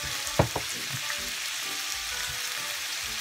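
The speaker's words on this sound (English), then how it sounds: "keep on sauteing this until our pork's cooked" Pork sautés in a pan for a Filipino coconut milk dish with butternut squash, giving a steady close sizzle and crackle with a couple of sharp clinks from stirring near the start.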